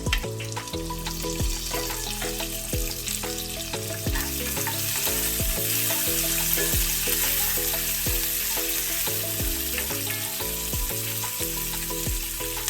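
Large-cut onions sautéing in oil for tomato chutney give a continuous, steady sizzle that runs the whole time beneath rhythmic background music.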